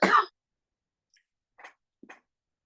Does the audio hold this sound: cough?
yes